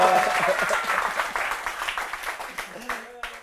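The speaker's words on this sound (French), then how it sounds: "quand on reçoit un pasteur, on applaudit pour lui encore pour une seconde fois" Church audience at a comedy show applauding a pastor, a burst of many hands clapping in a loose irregular patter that gradually thins out, with a voice talking briefly underneath.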